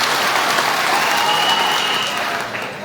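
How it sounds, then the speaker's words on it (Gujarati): An audience at a public speech gathering in Shivrajpur applauds a guest from Bhavnagar with loud, dense, continuous clapping that tapers slightly near the end. "બ્રિજરાજભાઈ માટે જોરદાર તાળીઓ થઈ જાય"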